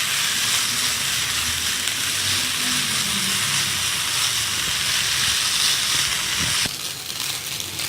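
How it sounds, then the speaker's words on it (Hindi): Chicken patties fry in a pan with a continuous hissing sizzle, close and steady, easing slightly toward the end after a brief knock, with no voices. "इसको बस आप 5 मिनट अच्छी तरह से फ्राई करें"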